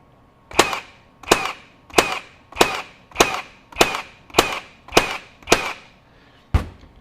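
A FLEX 24V brushless 18ga brad nailer firing in bump fire mode: nine sharp, loud snapping shots in a steady rhythm about one per second, then one more after a short pause, close and clear with no talking.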